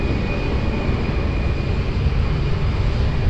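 Airbus A319 jet rolling for takeoff at Lisbon Airport, a steady, broad engine roar heard from a distance with a faint high whine riding over it and no voices.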